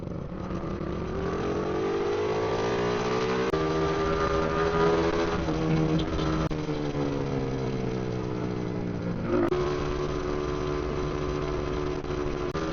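Suzuki Raider Fi motorcycle engine revving and accelerating, pitch rising through gear changes in several long sweeps, loud and close with no talk over it.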